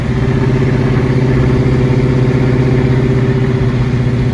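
A 1995 Chevrolet Caprice with a swapped 5.3 LS V8 drives along, its engine a loud, steady, deep rumble with a continuous low drone throughout and no talking.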